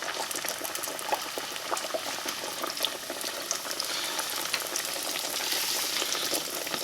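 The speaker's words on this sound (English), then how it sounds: "Alright, my oil's at 375. I'm just going to drop in 3 of them at a time." Beignet dough dropped three at a time into 375-degree frying oil bubbles and crackles in a steady, dense, close hiss that holds throughout with no talking.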